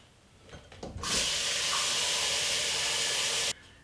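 Water pouring from a tap into a pot of homegrown green beans, a steady loud rushing stream that starts abruptly, runs for a couple of seconds and cuts off sharply, close by with no talking.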